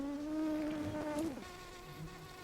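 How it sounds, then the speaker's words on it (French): A single bee buzzes close by with a steady high drone, then its pitch dips and it fades away, leaving faint background hum. "Moi j'entends des abeilles depuis tout à l'heure."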